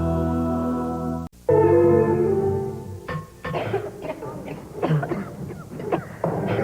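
Two women cough in a cough syrup commercial, harsh repeated coughs in a close, loud run after a sustained musical tone cuts off.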